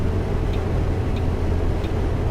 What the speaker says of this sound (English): Just using the engine brake here, the retarder, to slow down.